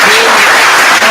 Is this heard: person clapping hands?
yes